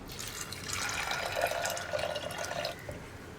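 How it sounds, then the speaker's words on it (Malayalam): Water pours into a pressure cooker holding cowpeas with salt and turmeric, a soft continuous splashing stream lasting a few seconds, fairly quiet and without voices. "പയർ വേവാൻ ആവശ്യമായിട്ടുള്ള വെള്ളം."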